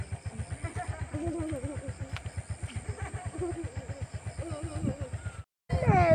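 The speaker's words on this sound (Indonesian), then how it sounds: "ada yang motor." A motorcycle engine idles nearby on a mountain road near Mount Ranaka, with a rapid, even, throbbing pulse that holds steady throughout, broken by a brief dropout near the end.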